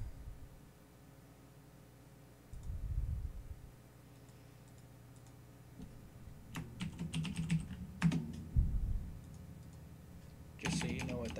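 Keys on a computer keyboard clack in short bursts and scattered clicks, close and moderately loud, with someone talking intermittently between the typing.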